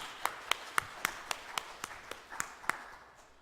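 A church congregation claps in a slow, steady rhythm, about ten distinct claps evenly spaced, fairly faint and distant in a quiet sanctuary.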